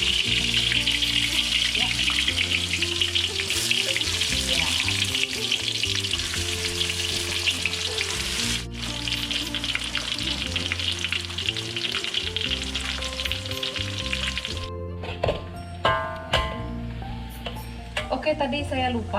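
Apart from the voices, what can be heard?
onions frying in hot oil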